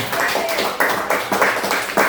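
Short bursts of hand clapping from a classroom group of pupils at the close of an Islamic religious education lesson, uneven and moderately loud, rising in several waves over a couple of seconds.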